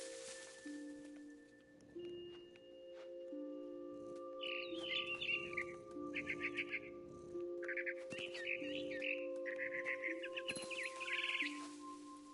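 Birds chirp in the video game What Remains of Edith Finch, bursts of quick tweets and trills repeating over a soft sustained musical drone, fairly faint, with no talk.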